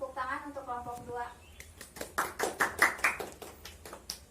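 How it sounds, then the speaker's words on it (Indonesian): A teacher speaks briefly, then classroom students clap for a discussion group, producing a burst of sharp, irregular handclaps that builds and stays fairly close before tapering off. "beri tepuk tangan untuk kelompok 2"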